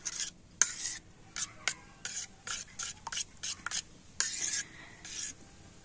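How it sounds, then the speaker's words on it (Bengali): Semolina and water are stirred together in a bowl, producing a series of short, close, gritty scraping and rubbing strokes in an irregular rhythm, fairly quiet, with no talking. "আর এবার আমি সুজিটা জলের সাথে খুব ভালো করে মিশিয়ে নেব।"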